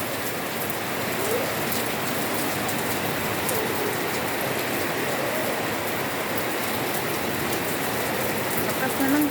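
Heavy rain pours down without pause during Typhoon Kristine, a loud, dense, even hiss of drops hitting surfaces nearby.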